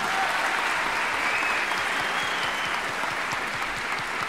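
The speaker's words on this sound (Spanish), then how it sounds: "Fuerte el aplauso para Matías." Steady, dense applause from an audience at a live community event in Linares, sustained at an even level for several seconds.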